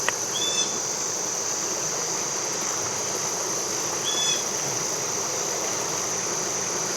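Floodwater of a swollen river rushes against a bridge on a country road, a steady broad hiss heard from above, with faint insect-like chirps appearing twice over it.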